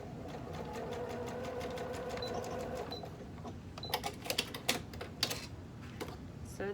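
A sewing machine stitches knit binding onto fabric at a quiet, steady whirring pace, then stops, leaving a few soft clicks and handling noises.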